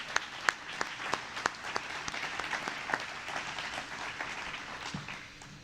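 An audience at a phosphorus recovery facility ribbon cutting applauds, moderately quiet scattered clapping with distinct individual claps over several seconds.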